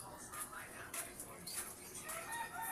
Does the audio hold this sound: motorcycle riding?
no